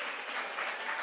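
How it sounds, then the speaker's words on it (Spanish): A church congregation gives itself a round of applause, a brief, soft but dense patter of many hands clapping at once with no voices over it. "Dese un aplauso porque usted hoy decidió estar aquí."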